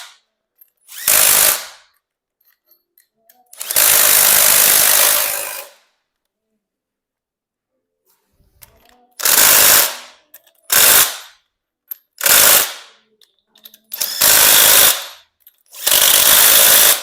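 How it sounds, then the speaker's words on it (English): A nut runner tightens crankshaft bolts on a 400 small-block Chevy. It fires in short, loud, close bursts of whirring, about seven of them, separated by silent pauses. "this is a nut runner. It's probably got less than 25 foot-pounds of torque."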